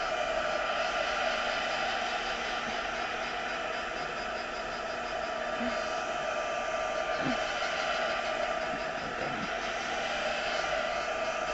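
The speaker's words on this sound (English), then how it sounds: "I'm not sure I like that heat gun" A heat gun blows steadily while drying a craft project, a constant loud airy roar with an electric motor whine that continues without pause, with a few faint knocks beneath it.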